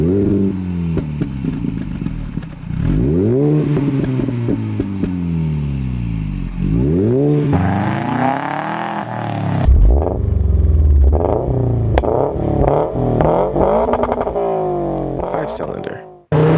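A four-cylinder car engine revs repeatedly, each rise and fall sweeping up in pitch and dropping back, loud and close, ending in a sharp high-revving burst before cutting off.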